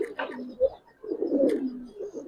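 Giribaz silver khaki pigeons coo in low, rolling murmurs close by, mixed with people talking nearby.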